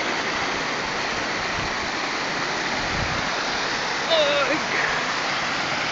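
Suptodhara waterfall in Sitakunda, Chittagong, roars as a steady, close rush of falling water throughout, with a brief voice cutting in over it near the end.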